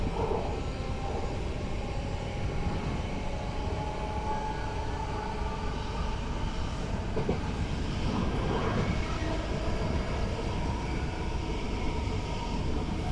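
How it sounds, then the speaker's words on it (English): A 30-year-old West Midlands Railway Class 323 electric train accelerates away from a station, a steady loud interior roar and rumble with rising motor whine heard from onboard. "The acceleration on these units for a 30-year-old train is absolutely rapid."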